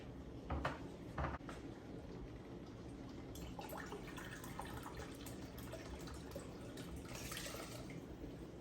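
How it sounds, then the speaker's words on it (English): Water pours steadily into a cooking pot for several seconds, a continuous splash with a few brief louder clinks near the start, fairly close and unaccompanied by talk. "And we'll also add 2 cups of water as well."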